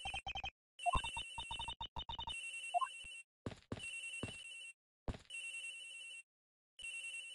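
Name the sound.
phone ringtone ringing in Ace Attorney Investigations video game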